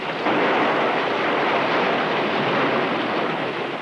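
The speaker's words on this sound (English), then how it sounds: "a seething, boiling cauldron of water that roared at them as if in anger" A loud, steady roar of rushing water fills everything, a dense unbroken wash of noise without pauses.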